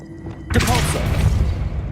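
A Depulso spell goes off in Hogwarts Legacy as a sudden loud magical blast with a booming thud, followed by a sustained rumbling, crackling burst.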